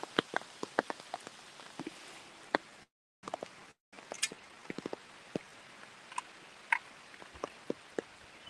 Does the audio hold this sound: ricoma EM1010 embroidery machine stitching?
no